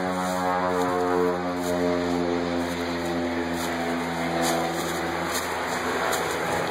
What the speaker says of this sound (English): You can hear an airplane taking off.